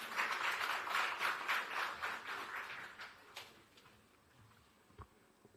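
An audience at a tech development centre launch gives dense applause to welcome a speaker. The clapping is loud at first, then thins out and fades, leaving only a few scattered claps.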